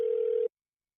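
Telephone ring tone on a call placed during a radio prank segment, a single steady electronic tone lasting about half a second before cutting off to silence.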